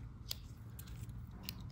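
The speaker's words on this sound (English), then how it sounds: "You have the scissors" A few quiet, sharp snips of the small scissors on a 91mm Victorinox pocketknife, spaced apart, over a low steady background hum.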